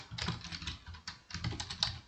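Someone types a file name on a computer keyboard in short bursts of crisp, close key clicks separated by brief pauses, with no talking.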